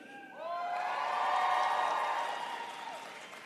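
Graduates at the University of Colorado Denver fall 2021 commencement cheer and whoop together, the crowd noise swelling quickly, holding for a couple of seconds, then fading, somewhat distant.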